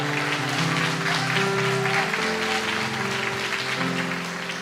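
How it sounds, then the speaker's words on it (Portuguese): A church congregation applauds together in a steady wash of clapping, with sustained organ or keyboard tones underneath, fairly loud and continuous and fading slightly at the end. "dê um forte aplauso ao Senhor"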